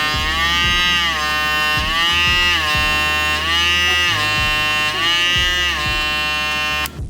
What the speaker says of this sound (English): I really want you to use your ears and listen to how this vector motor kicks into action.